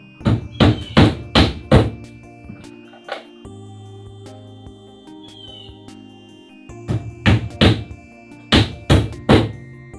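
A hammer drives 1.5-inch roofing nails into OSB roof sheathing on a tiny house roof, in two bursts of four or five sharp, loud, evenly spaced blows separated by a quieter pause.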